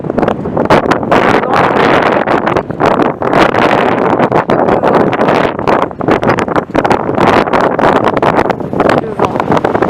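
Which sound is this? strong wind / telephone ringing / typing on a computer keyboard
strong wind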